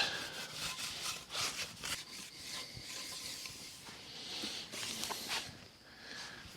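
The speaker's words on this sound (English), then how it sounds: "Just trying to scuff the surface up, kind of get rid of the glossiness, give it a little texture, something for that new paint to bite on." Scuffing the painted surface of a 1974 Volvo 164E before repainting, close uneven rubbing and scraping strokes in an irregular rhythm, with no talk.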